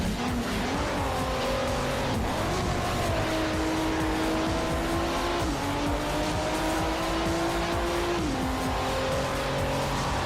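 Race car engines drone loudly and continuously in Need for Speed: Shift, with the revving pitch climbing and dropping through gear changes and tire squeal mixed in, with no talk.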